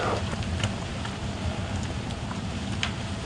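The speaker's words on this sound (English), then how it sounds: "The wind's gusting." Wind gusting across open African bush at sunset during a safari drive, a constant rough roar of air buffeting the microphone with faint scattered crackles.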